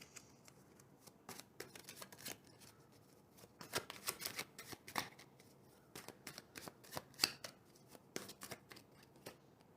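Tarot cards shuffled and handled for a pick-a-card reading, producing rapid papery riffles and soft flicks in uneven bursts, close and fairly quiet with no talking.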